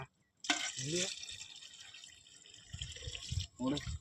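Water splashes and pours into a pot of meat being cooked, a faint wet rush between stretches of people talking nearby.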